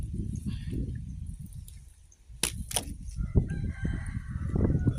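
A rooster crows at a rural home garden in Thailand, a short call rising above steady low background noise with scattered thumps and clatter around it.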